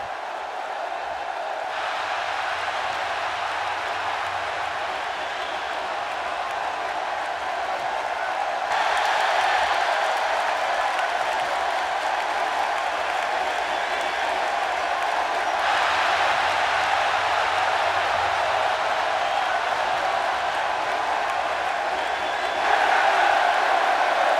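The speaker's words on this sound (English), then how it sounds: "the response this guy gets, well, it's incredible. It's deafening most of the time" An arena crowd at a wrestling tournament cheers for a star performer, a loud, dense, sustained roar that fills the whole stretch and swells in waves without letting up.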